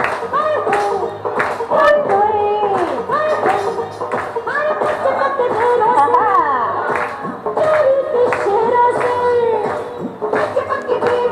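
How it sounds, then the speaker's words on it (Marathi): Audience at a charity program at Dilasa Virangula Kendra clapping steadily in rhythm, loud and close, with music and singing running alongside the beat. "टाळ्या टाळ्या."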